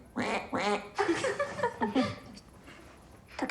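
A voice imitates duck quacking with several nasal quacks in a row, close and loud, followed by a soft chuckle and a quiet outdoor pause, in a Russian war-era drama scene.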